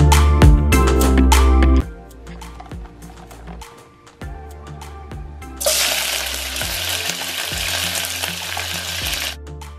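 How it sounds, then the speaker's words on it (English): Oil sizzling and crackling as small ndagara fish fry, stirred with occasional clinks, the hiss swelling louder partway through and staying steady. "I just finished frying my ndagara."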